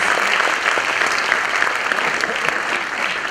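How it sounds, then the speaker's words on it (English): Audience at a school annual function in Dadar West applauding, a steady dense wash of many hands clapping throughout, fairly loud and sustained with no break. "Can we have a round of applause, please?"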